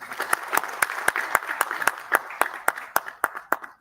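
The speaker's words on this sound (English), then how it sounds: "Please give him a big round of applause." A conference audience claps warmly, dense and steady at first, then thinning toward the end into a few scattered sharp claps, with no one speaking over it.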